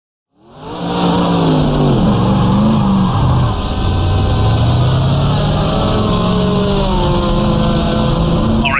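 A 1966 sports racing car pulls out of the pit lane at Monza in GTR2, its engine droning loudly and steadily as it accelerates through the gears, with rising and falling engine tones.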